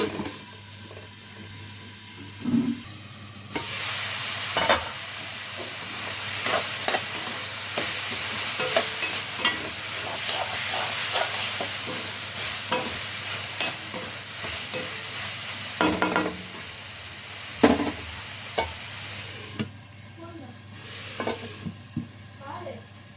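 Vegetables for a macaroni vegetable biryani sizzle and fry in a covered pan, a steady soft crackle broken by occasional clinks and scrapes of stirring, with no talking.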